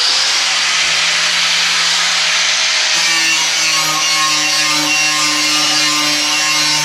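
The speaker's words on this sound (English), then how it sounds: "I'm going to use a flapper disc instead of a grinding disc." A flap disc grinding sheet metal while trimming the rear wheel well of a Jeep Cherokee XJ, giving a steady, loud abrasive hiss and whine that shifts pitch slightly partway through, heard alone at close range.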